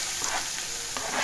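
Constant close sizzling and crackling of finely chopped onions frying in hot oil with dried red chillies and asafoetida, with no talking.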